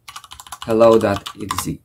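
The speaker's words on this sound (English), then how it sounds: "Now we're gonna run it by typing" Rapid clicks of computer keyboard keys as a command is typed, then a voice speaks briefly over the end of the keystrokes.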